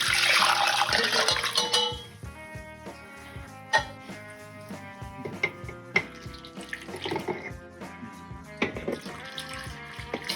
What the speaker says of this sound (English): we're gonna dump it in here so I can pour it a little easier.